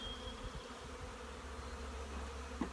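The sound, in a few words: honey bees buzzing around a hive frame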